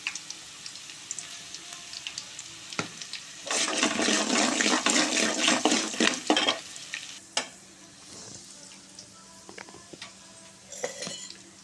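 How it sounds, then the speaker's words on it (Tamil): Hot oil sizzles and crackles loudly in a pan where potatoes fry for a poriyal, with asafoetida powder added. The burst of frying lasts about three seconds and is followed by quieter clinks and faint stirring. "இதில் கொஞ்சம் பெருங்காயத்தூள் போடுற பாருங்க."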